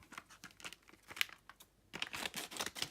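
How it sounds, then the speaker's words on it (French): Scissors snip through the foil wrapper of a 2018 World Cup Panini sticker pack, producing quiet, close crinkling and tearing crackles in irregular bursts with no talking. "Tac, je reprends ma paire de ciseaux."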